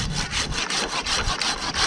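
A chainsaw cuts into wood while a tree climber installs a high tie-in point. Rough rasping bursts pulse in a quick, steady rhythm, loud and close, with no talking.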